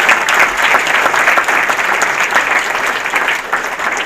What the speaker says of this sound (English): So we get a round of applause for that.